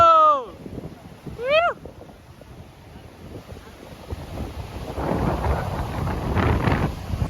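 Wind buffeting a microphone at a rocky beach in Pondicherry, a steady rumbling roar that builds toward the end, with brief speech near the start.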